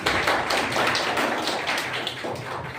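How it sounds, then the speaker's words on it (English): Audience applause closing a debate at a solar energy and photovoltaic seminar, a dense, continuous burst of many hands clapping close by, loud and steady throughout. "A round of applause for our colleagues."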